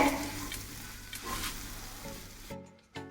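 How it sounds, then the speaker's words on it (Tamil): Masala spices, red chilli powder and coriander powder, sizzle and fry in hot oil in a pan for Tamil vendhaya kuzhambu, a steady crackling hiss that drops out abruptly near the end with only a faint clatter. "மசாலா எல்லாம் எண்ணெயிலேயே நல்லா வதக்கிருங்க."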